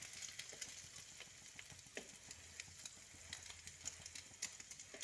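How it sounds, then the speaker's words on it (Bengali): A paratha fries in a pan over low heat for a homemade egg roll, giving a faint, continuous sizzle with small crackling pops. "এটাকে একটু সময় নিয়ে ভালো করে ধিমে আঁচে প্রথমে ভাজতে হবে, যাতে কোথাও কাঁচা না থেকে যায়।"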